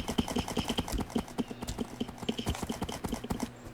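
Horse hooves clip-clop in a steady, even rhythm as a horse is ridden in a medieval fantasy video game world. The hoofbeats are close and distinct, heard alone without talk.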